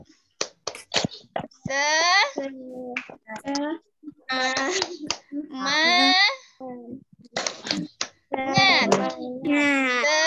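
Children perform a rhythmic 'tepuk semangat' clapping chant in a classroom, with sharp bursts of claps between loud chanted voices in a patterned sequence.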